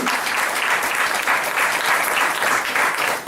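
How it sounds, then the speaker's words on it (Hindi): An audience bursts into loud, sustained applause for a woman among them, a dense wash of clapping that holds steady for several seconds. "जोरदार ताली मैडम के लिए।"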